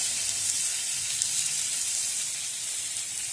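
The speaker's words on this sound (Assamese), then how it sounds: "সেই তেলখিনিতে প্ৰথমতে মই দি লৈছিলোঁ গোটা জিৰা কেইটা দি দিম, আৰু যি পিঁয়াজ কাটি লৈছিলোঁ পিঁয়াজ কেইটা একেলগে দি দিছোঁ" Whole cumin seeds and chopped onions fry in hot oil for a prawn curry, giving a steady, bright sizzling hiss that stays even and close throughout with no voices.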